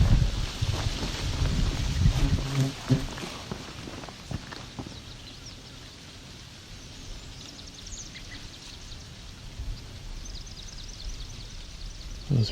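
Leaves of a trembling aspen rustle loudly on a calm day beside Otter Lake, a broad dense wash that is strongest early and settles into a softer steady hiss, with scattered footstep-like crackles through it.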